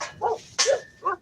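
Dogs bark from nearby, three sharp separate barks with short gaps between them, loud and clear against a quiet background.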